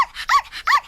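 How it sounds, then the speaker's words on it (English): A seal gives two loud, rasping, bark-like calls in quick succession, each a short harsh grunting burst, heard alone and close. "That was the sound of a seal recorded yesterday"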